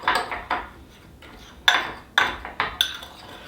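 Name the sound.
mixing barbecue sauce with a fork in a bowl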